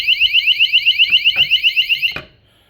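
A water leak detector alarm sounds after a few drops of water reach its sensor: a loud, close, rapidly warbling electronic beep pulses steadily for about two seconds, then cuts off abruptly.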